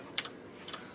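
Keys are pressed on a Mega65 computer keyboard, two quick close clicks followed by a softer rattle of a further keypress, faint and heard without talk.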